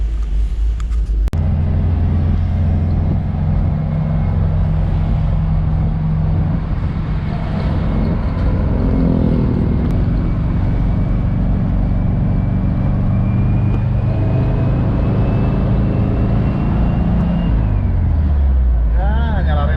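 A vintage 1970s Volkswagen car engine runs steadily with a loud, continuous low rumble and drone throughout, its pitch shifting slightly near the end.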